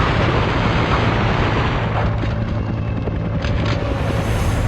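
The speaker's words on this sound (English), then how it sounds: "These guys will keep coming until I bring down that attack chopper." Loud, continuous rumbling roar of an armor-plated attack helicopter in the video game Dead to Rights, a dense steady drone with rotor throb and faint tonal whine throughout.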